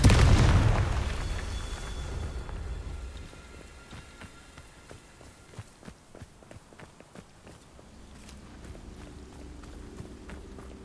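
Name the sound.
Confringo explosive spell in Hogwarts Legacy video game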